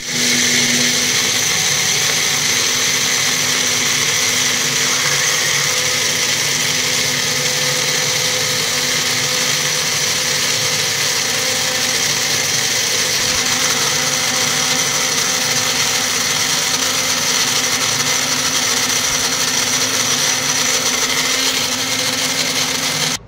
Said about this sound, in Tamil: இந்த பாதாம் இப்போ நல்லா பிளெண்ட் பண்ணி எடுத்துக்கலாம்